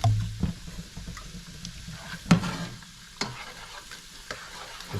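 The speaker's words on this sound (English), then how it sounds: "Let that garlic cook." Garlic frying in a pan, with a soft steady sizzle under occasional sharp scrapes and clinks of stirring.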